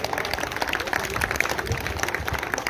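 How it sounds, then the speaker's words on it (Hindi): Audience applause at a comedy parody poetry recital, a dense but moderate wash of clapping filling the short stretch evenly, with voices faintly mixed in. "ताली बजते रहना चाहिए भाई साहब।"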